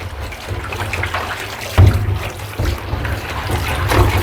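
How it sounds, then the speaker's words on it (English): Water from a tap runs steadily to rinse the cells of a PD 590 electronic air filter, a loud splashing hiss with uneven gushes and spatters. "give it a good rinse."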